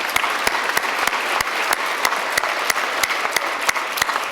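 Crowd applause at a county education awards ceremony, a thick continuous patter with a few sharp, closer claps punching out at a fairly regular beat, steady and loud throughout.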